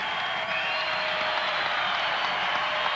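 Crowd noise at a 1995 college basketball game between Illinois State and Southwest Missouri State, a steady, distant roar of cheering in the arena with a faint whistle-like tone running through it.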